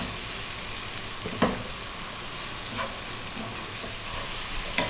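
Ginger cabbage seasoned with salt and black pepper stir-fries in a hot pan with a constant close sizzle, broken by a few sharp spatula scrapes and clacks as it is kept moving.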